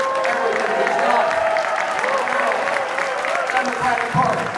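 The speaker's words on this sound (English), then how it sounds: "give him a round of applause that he could hear in Ocean City" Audience applause at a Democratic Party awards celebration, dense sustained clapping from a crowd filling the room, with scattered voices and cheering mixed in throughout.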